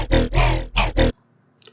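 Riddim wobble bass synth patch built in Serum without downsampling: four loud, growling, roar-like bursts in a choppy rhythm, then near silence.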